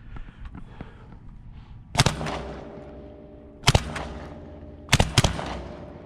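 Three loud, sharp blasts from a Black Aces FD12 bullpup shotgun with a SilencerCo Salvo 12 suppressor and an improved cylinder choke, spaced about one to two seconds apart, each with a short ringing decay over quiet background.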